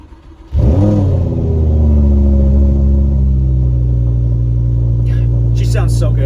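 A Lamborghini Huracan Spyder cold-starts in Corsa mode: a starter whir, then a sharp loud revving flare that settles into a deep, steady, booming idle close by, with a few faint clicks near the end.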